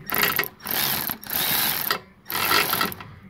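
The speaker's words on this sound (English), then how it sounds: "the next step at this point is to tighten this AC compressor back up" A ratchet tightens the AC compressor bolts on a 2005 Pontiac G6 with a V6 3.6, in four close, rapid clicking bursts separated by brief pauses, with no voices.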